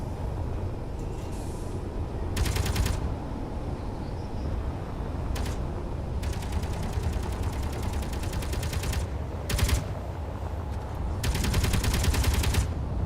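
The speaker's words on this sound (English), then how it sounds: "someone's still shooting something" Bursts of automatic gunfire from the space-combat game Space Engineers, several rapid rattling volleys repeating over a steady low droning rumble, fairly loud and with no talk.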